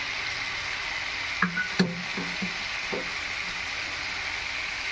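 Spice paste (masala) for a banana-stem curry sizzles steadily in a pan with a constant hiss, broken by a few light knocks of a spoon against the pan.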